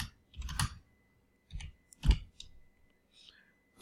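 Code is typed on a computer keyboard in short, separated bursts of crisp key clicks with quiet gaps between them, close by, with no voices.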